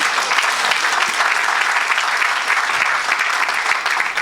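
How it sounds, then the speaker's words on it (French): A church congregation applauds at a Saturday service, steady dense clapping from many hands held at an even level throughout. "Mais quelqu'un acclame Jésus"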